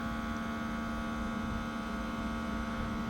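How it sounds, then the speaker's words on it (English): A Launch UK smoke test machine pumps smoke into a Range Rover's intake, producing a constant, loud, even electrical hum with no change over a few seconds. "we've got the smoke test hooked up from Launch UK. This goes in the intake, pushes smoke through it"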